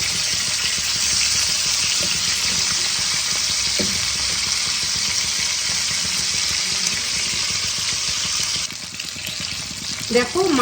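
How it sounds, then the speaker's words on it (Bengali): Fish heads frying in hot oil, a loud continuous hiss and crackle close up, steady for most of the stretch before easing off with a few clinks and spatters at the end. "মাছের মাথাগুলোকে আমি লাল লাল করে ভেজে নেব।"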